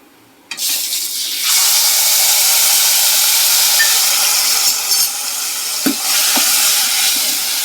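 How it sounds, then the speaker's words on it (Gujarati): Cumin seeds, turmeric, asafoetida and tomato drop into hot oil and burst into a loud, steady sizzle close by, with a few stirring clacks toward the end. "તેમાં આખું જીરું હળદર થોડીક એવી હિંગ ઉમેરશું અને પેલા નાખશું ટમેટું"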